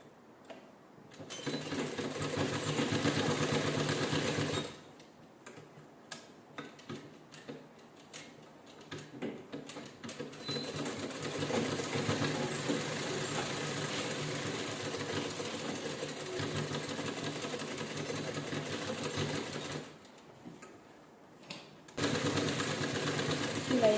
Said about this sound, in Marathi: पूर्ण राऊंड शिलाई करून घ्यायची